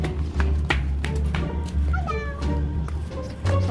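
A cat meows a few times close by, heard together with tapping, background noise and people talking.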